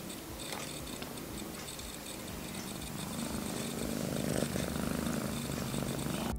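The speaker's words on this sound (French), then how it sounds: "Le ronronnement est le plus souvent un signe de bien-être." A cat purrs close up in a steady, continuous rumble that grows slightly louder toward the end, with no talking.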